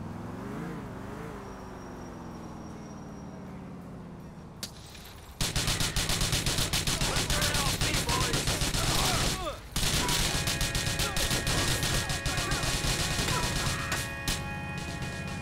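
A car shootout in the video game GTA 4 opens with a low engine hum, then breaks into dense, loud, sustained bursts of gunfire that rattle on for about ten seconds with a brief break midway.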